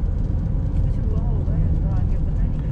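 Road traffic jammed on a Goa road, a steady rumble of idling and creeping engines with a faint rising and falling horn-like tone, heard at close range under background chatter.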